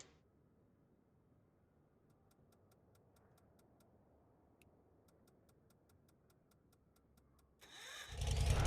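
An ultralight aircraft engine in a flight simulator game: quiet regular ticking at first, then the engine catches near the end and rises into a loud, steady drone.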